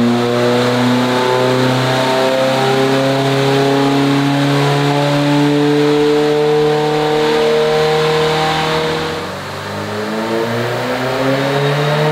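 A big-turbo VB Subaru WRX running flex fuel revs hard on a dyno, a loud, close engine note climbing steadily in pitch before a brief dip and recovery, with no talk.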